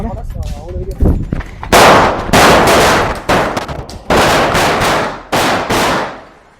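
A rapid string of loud, sharp Diwali firecracker bangs crackles in bursts close by in the rain, with brief gaps between volleys and voices faintly heard at the start.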